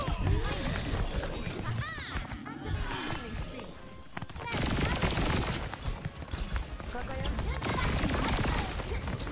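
Tracer's rapid-fire pistols in the Overwatch shooter, heard as fast bursts of clattering shots across the clip, mixed in with other game sounds and a voice talking over them.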